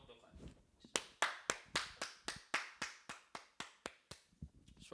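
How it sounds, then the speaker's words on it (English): About a dozen sharp hand claps in a steady, even rhythm, close and crisp, with faint talk at the start. "Everybody clap."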